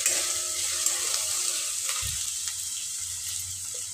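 Chopped onion frying for pitla, sizzling steadily and close in a pan, with a soft stir or scrape near the middle and no voices.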